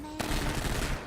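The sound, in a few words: gunfire in the video game Grand Theft Auto Online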